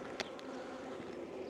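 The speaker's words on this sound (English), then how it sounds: "Especially when you've got this many bees in a box." Honey bees hum steadily from an open hive box during a beekeeping inspection, a close, continuous buzz with a couple of brief louder passes near the start.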